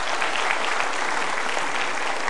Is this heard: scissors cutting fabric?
no